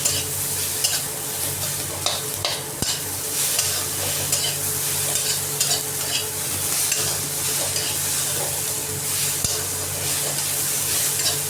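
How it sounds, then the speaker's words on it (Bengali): Bitter gourd curry frying in a pan and being stirred, a steady close sizzle with a scraping, clattering stir running throughout, no voices. "দিয়ে এটাকে বেশ করে নাড়াচাড়া করে নেব।"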